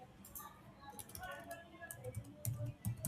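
Quick clusters of keystrokes clatter on a computer keyboard while a truss bridge model is built in SAP 2000, close and fairly crisp, with a voice talking over the tapping.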